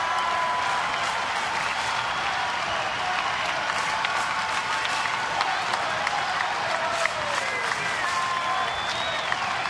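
A baseball stadium crowd roars with applause and cheering after a strikeout: a loud, dense, unbroken wall of clapping and shouting throughout.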